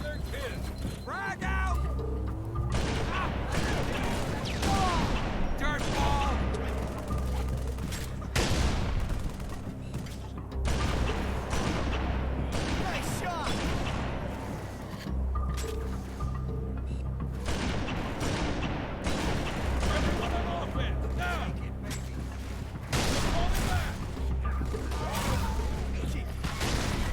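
Halo 3 combat against hunters, with frag grenades thrown: bursts of rapid gunfire, heavy thumps and booms repeat throughout, mixed with mechanical clanks, while a player's voice talks over the action.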